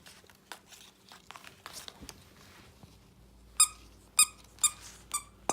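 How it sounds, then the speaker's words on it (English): Squeaky plush tug dog toy shaped like an acrylic paint tube, squeaked about five times in quick bursts near the end after some crinkling and rustling handling noises. "Here we have Paint Tube Tug. It's an acrylic tube of paint. Whoop. Oh, that's so cute, and it squeaks."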